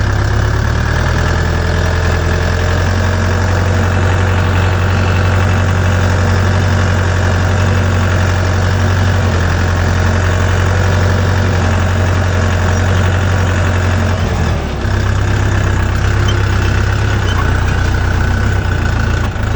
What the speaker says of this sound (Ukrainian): Включаю, вмикаю першу і їдемо першою вперед.